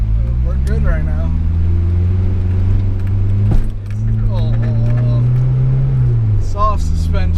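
A Nissan 240SX with a knock sensor bypass drives on a road, its engine a loud steady drone that rises and falls in pitch through shifts, with keys jangling and people talking inside the car.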